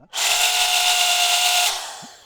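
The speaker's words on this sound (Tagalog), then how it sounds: "nagpalit na ako ng drill bit na medyo mas malaki" A power drill fitted with a larger bit bores out a rivet on a Samsung washing machine, giving one steady, loud, close whine of about a second and a half before it spins down.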